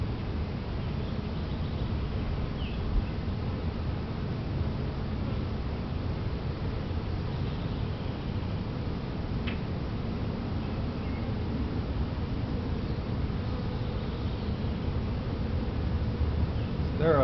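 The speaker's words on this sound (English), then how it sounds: "There are a lot more bees than I thought there would be." A dense swarm of honey bees drones steadily around a new hive about a week after the swarm moved in, a close, continuous buzzing that never lets up and carries a few faint, indistinct voice sounds.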